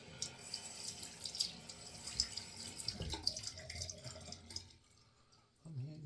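Water running from a bathroom tap while someone wets their face, a soft splashing trickle with small drips and handling noises that fades out near the end.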